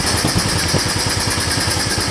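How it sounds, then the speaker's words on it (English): A motorcycle engine idles close and loud with a steady, rapid pulsing putter, running rough while it fails to rev, with no voices. "it's idling, but it won't rev out"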